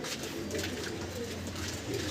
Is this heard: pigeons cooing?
yes